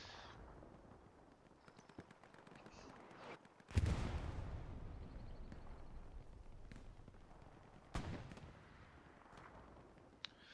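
Artillery fire in the Hell Let Loose war game: one heavy, booming blast with a long rumbling decay, then a second sharper distant bang, over faint background noise and small clicks.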